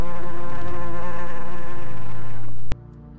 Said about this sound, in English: You hear an increasingly loud buzzing sound approaching from the west.